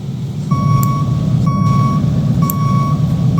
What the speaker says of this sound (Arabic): والله يا جدعان صوت وانت راجع دي جامدة، مش وحش